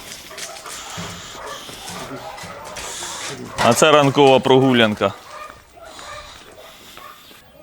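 A dog barks in a short rapid burst, loud and close, on a small farm in Ukraine, while people talk before and after it.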